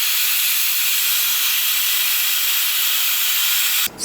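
A pressure cooker of sambar releases steam in a loud, continuous hiss that holds steady for several seconds, then cuts off abruptly.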